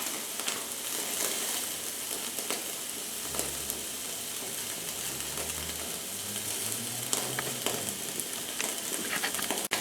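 Kensington Club steak searing in a hot pan, a steady, dense sizzle and crackle that runs unbroken throughout, close and fairly loud, with no one talking.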